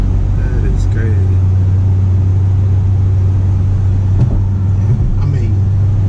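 A Dodge Challenger Scat Pack Shaker runs with a loud, constant low engine drone heard from inside the car, with people talking over it.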